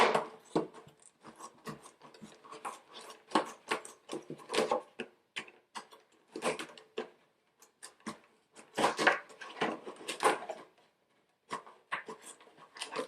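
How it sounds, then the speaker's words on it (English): Repeated crisp snipping and scraping as scissors cut through a plastic bottle, in irregular bursts with short pauses, close up and moderately loud. "once you've got your scissors through there, you can cut all the way around"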